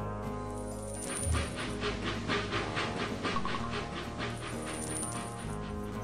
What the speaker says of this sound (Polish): Pociąg sobie będzie jeździć